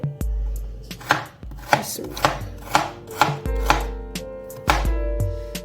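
Knife chopping raw potatoes into finger-chip strips for French fries on a board, about seven distinct, evenly spaced chops landing close and crisp, with no voices.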